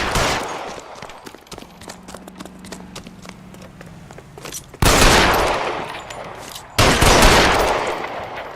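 Gunfire in the L.A. Noire video game: sharp rapid shots crackle over a rattling background, followed by two loud, close blasts that each trail off with a long echoing tail.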